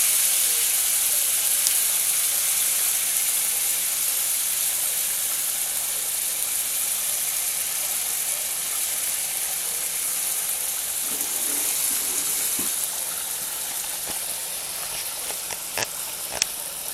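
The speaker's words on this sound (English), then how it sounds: "So that sizzle is deglazing the pan." Steady frying sizzle from a hot pan being deglazed while cooking rice and vegetables, a continuous bright hiss with a few soft clicks and stirring knocks near the end.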